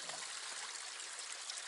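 Fresh mountain spring water trickles softly along the Appalachian Trail, a faint, steady splashing and burbling heard briefly up close.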